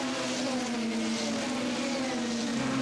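DTM touring race cars at Zolder in 2019 roar past in a continuous, loud engine drone with steady high-revving tone, several cars blending together without a break.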